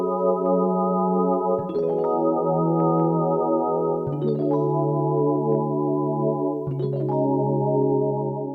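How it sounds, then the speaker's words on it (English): Korg Volca FM 2, a six-voice FM synthesizer, plays sustained bell-like chords that change three times, each change marked by a bright metallic attack, steady and loud with no talking. "all the sounds you're hearing in this demo are from the VOLCA FM."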